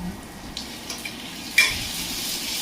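Tomatoes tipped into browned onions frying in a pan for a fish curry, stirred with a soft steady sizzle and a few spoon scrapes and clinks, one sharper knock partway through.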